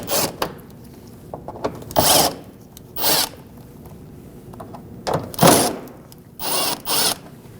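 A 10mm socket wrench backing out fender well screws on a Toyota 4Runner, heard as several short separate bursts of ratcheting and turning, close and fairly loud, spaced with quiet gaps between them.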